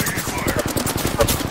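Continuous rapid-fire weapon bursts in the video game Apex Legends, loud and dense with steady repeated shots throughout, mixed with scattered in-game voice sounds and clatter.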